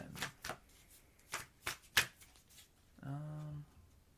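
A new deck of tarot cards shuffled up close in a quiet room, several sharp riffling bursts spaced about half a second apart, followed by a brief low hum near the end.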